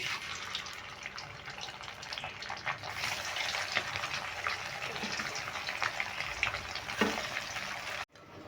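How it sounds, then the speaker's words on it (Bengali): Egg pieces fry in hot oil, a faint, steady hiss and crackle of sizzling that carries on throughout. "এইগুলো এবার আমি ডিমের পিসগুলো ভেজে নিচ্ছি"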